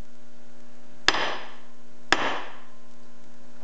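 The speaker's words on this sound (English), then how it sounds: "I'm going to hit it with a body hammer and see what happens." A body hammer strikes a Spec Miata transmission synchro spring twice, about a second apart, each a sharp metallic impact with a brief ringing decay over a faint steady hum.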